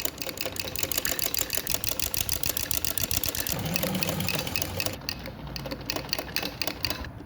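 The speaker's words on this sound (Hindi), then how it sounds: "ऐसे करके हमने 1 पाँव की सिलाई लगाते जानी है।" Sewing machine stitching piping onto fabric for a neckline, a steady close mechanical whir with rapid needle ticking running continuously, pausing briefly near the end before resuming.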